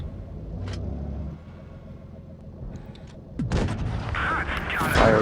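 A tank cannon fires in a World War II tank video game, a booming blast with a rumbling tail near the end of the clip, following a low engine rumble.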